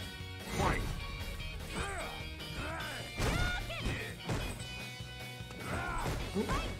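Street Fighter V match with Birdie and Karin: a string of heavy punches, sweeps and blocked hits lands in quick succession, sharp thwacks mixed with whooshing effects under excited commentary.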